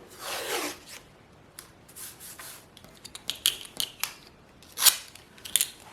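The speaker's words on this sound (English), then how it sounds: "when I'm putting my tape down, I'm just putting a little bit over, lapping it over" Painter's tape being pulled off the roll and pressed down in overlapping strips, with a long tearing rip followed by scattered crinkles, rubs and sharp taps, close and fairly quiet.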